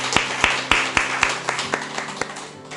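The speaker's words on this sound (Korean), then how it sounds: "우리 하나님 영광의 박수 칩시다" A church congregation at a prayer retreat claps together in a steady, quick, rhythmic beat. The sharp, loud claps are backed by a sustained tone.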